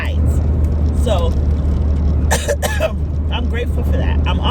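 One person coughs and clears their throat in several short, harsh bursts close by, over a steady low rumble of road traffic.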